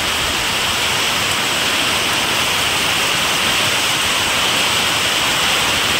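Heavy rain pours down in a loud, dense, unbroken roar of hiss that holds steady throughout, with no voices.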